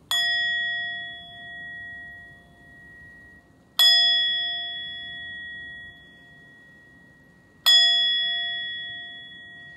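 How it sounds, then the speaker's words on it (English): A metal yoga bell is struck three times at even intervals several seconds apart, each clear ringing tone fading slowly in a quiet room during a kids' yoga class. "I'm gonna ring the bell to see if the dragonfly is nearby"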